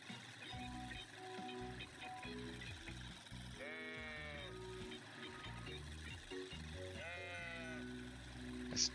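Sheep bleat twice in a video game, clear wavering calls standing out over game music and background sounds, with commentary talk running underneath.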